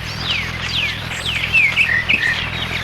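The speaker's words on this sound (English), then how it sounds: "I guess you can hear all my birds welcome you too." A lively sunrise chorus of birds in Mountain Brook chirping and tweeting, with several clear whistled calls rising over a low steady hum.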